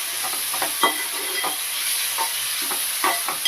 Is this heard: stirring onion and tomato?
yes